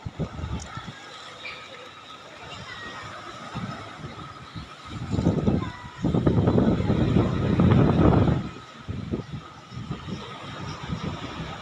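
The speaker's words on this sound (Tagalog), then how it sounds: "medyo may kalakasan ng hangin" Gusty wind by the sea at Paclasan Baywalk roars and buffets the microphone, building to its strongest surge midway before easing back to a lower, rushing background.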